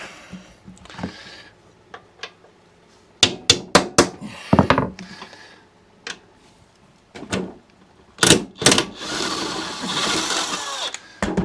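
Engine bolts being removed from an old lawnmower with tools, heard as sharp metallic clanks and ratcheting bursts separated by pauses, up close.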